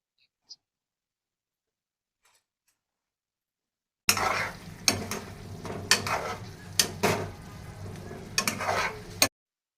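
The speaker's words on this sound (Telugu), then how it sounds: "జ్యోతి అనేది చికెన్ కూర అనేది కలుపుతుంది" Chicken gravy curry stirred in a pan with a spoon, a dense frying rasp broken by several sharp scraping clanks, starting after a quiet opening and stopping abruptly near the end.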